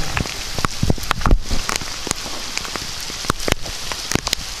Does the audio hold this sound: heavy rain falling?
yes